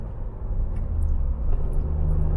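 Low engine rumble from a manual car being driven, steady and close inside the cabin, with a slight rise in tone near the end as the driver shifts up through the gears.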